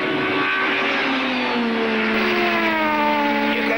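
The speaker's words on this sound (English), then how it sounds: "Hear the Volvo howling at its absolute limit." A Volvo touring race car at its absolute limit during a race, its engine howling loud and sustained with a rising, slowly shifting pitch, heard close without any talk over it.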